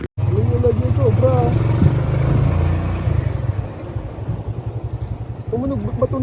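A motorcycle engine runs steadily nearby, a low throbbing drone that carries on throughout while people talk over it.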